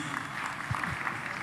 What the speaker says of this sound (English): You want to clap for her